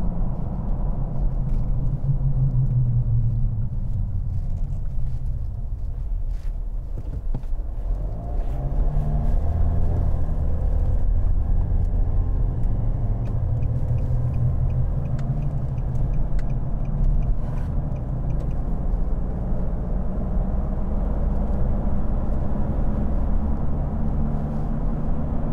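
A 2015 Nissan Navara pickup with a 2.5 dCi diesel cruises at 70 mph, heard from the cabin as a continuous low road and engine rumble with steady wind noise.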